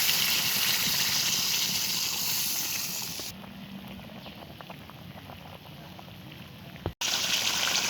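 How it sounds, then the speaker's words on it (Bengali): Water pours into a pot of beef cooked down with spices for an Eid curry, a steady close rushing hiss that shifts to a quieter bubbling simmer with faint crackles, broken by a brief cut near the end. "এবারে আমি পানি দিয়ে দেবো।"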